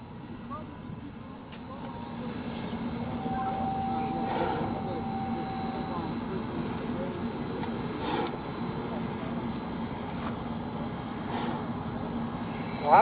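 US Sugar steam engine 148 crossing a bridge gives a steady, heavy rumble that holds for the whole stretch, with a brief tonal note partway through and faint voices in the background.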